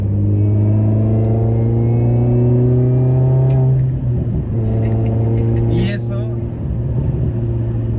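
R53 Mini Cooper S engine revving hard, a loud close tonal drone that rises, then drops off with a few sharp exhaust pops and crackles before the engine note returns.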